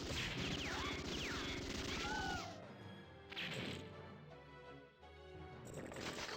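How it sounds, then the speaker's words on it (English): The heavy machine gun in the video game Metal Slug 6 hammers out dense, loud bursts of rapid fire mixed with crashing impacts and explosions, dipping briefly before the firing resumes. "Heavy machine gun."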